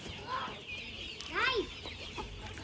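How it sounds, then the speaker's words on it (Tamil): Free-ranging native country chickens cluck nearby on a farm, with a couple of clear squawking calls rising over faint background murmur and rustle. "ஒரிஜினல் நாட்டுக்கோழி இயற்கையாக வளர்றது"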